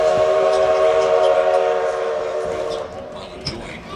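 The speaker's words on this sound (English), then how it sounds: "Please sit back, relax, and enjoy your ride aboard the 1880 train." The 1880 steam train of the Black Hills Central Railroad sounds a long, loud whistle blast with layered tones that fades out near the end, over a rumble of rolling cars, heard up close.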